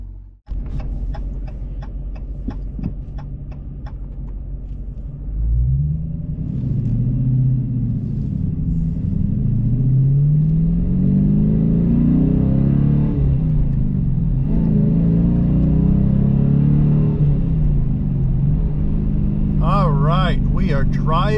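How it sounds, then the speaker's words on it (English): Engine of a 2019 Dodge Challenger R/T with a manual gearbox, rumbling and rising in pitch as it accelerates while driving, loud and steady for most of the stretch, after some clicking at the start. "We are driving the Challenger"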